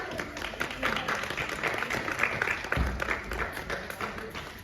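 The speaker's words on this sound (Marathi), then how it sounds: "या सर्व टीमचं सुद्धा आपण टाळी वाजून स्वागत करूया" A theatre audience claps to welcome a visiting drama team, a dense, steady patter of many hands at moderate distance that swells briefly partway through.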